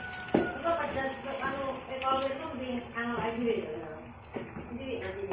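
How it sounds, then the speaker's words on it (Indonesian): Blended spices sizzling and frying in hot oil for Indonesian sambal, a continuous crackling sizzle with stirring throughout, a person talking over it. "Kemudian kita tumis sama minyak ya."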